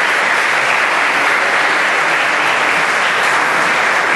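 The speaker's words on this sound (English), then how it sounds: "Okay, they finished off clapping." A conference audience applauds in a dense, even round of clapping that holds steady and loud throughout, with no voices rising above it.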